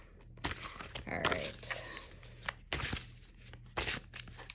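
Tarot cards are shuffled by hand in quick riffling, crinkling bursts, close and fairly quiet, separated by short pauses, with a brief spoken remark at the start.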